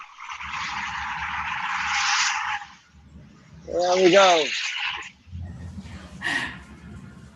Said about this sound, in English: That's the sounds of New York City for sure in the background there.